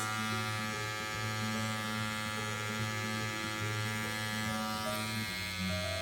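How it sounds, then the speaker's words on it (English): Electric hair clippers buzzing steadily while cutting a boy's hair around his ear, a close, even motorized hum with slight shifts in pitch as the blades move through hair. "And then I'm gonna angle the clippers up around his ear."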